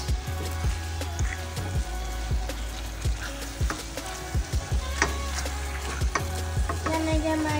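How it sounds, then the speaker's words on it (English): Basa fish with coriander and green peppers sizzles and fries in a pan, a steady close crackle with scattered pops and light stirring clinks running throughout. "Now we're gonna cook it and cover it again for 15 minutes."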